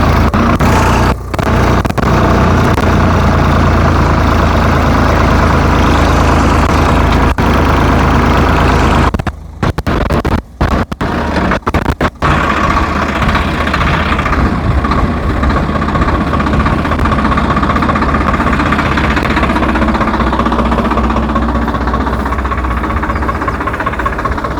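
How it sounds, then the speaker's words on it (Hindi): A tractor engine runs steadily with a deep rumble while pulling a 39-inch bed-forming machine across a sweet potato field, loud and close for the whole stretch with brief clunks midway and no talk. "आइए ट्रैक्टर के द्वारा कैसे बेड बनते हैं"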